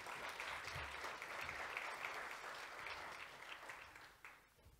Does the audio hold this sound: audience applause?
yes